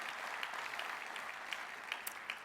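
Steady audience applause at an automotive consumer awards ceremony, a dense even patter of many hands clapping throughout, moderately loud with a few sharper claps standing out.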